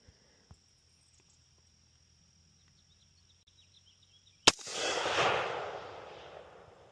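A single sharp rifle shot, fired while zeroing an LPVO scope at 25 yards outdoors, cracks loudly after a quiet stretch with faint insect-like whine, followed by a long rolling echo.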